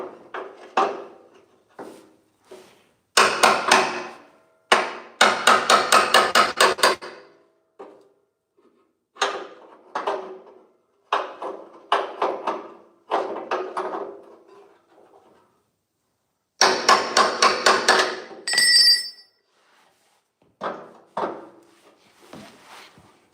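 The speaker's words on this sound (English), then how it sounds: "Yes, I'm using a claw hammer." Bursts of sharp, rapid claw hammer blows on rusty metal of a 1984 Oldsmobile Cutlass's front gearbox and steering linkage, coming in quick clusters separated by pauses, loud and close.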